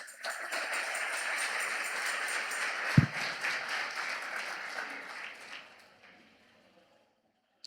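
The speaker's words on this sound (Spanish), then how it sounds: "Dale un fuerte aplauso al Señor." A church congregation claps and cheers in a lively burst with one sharp close clap standing out, then the applause thins and fades to near silence by the end.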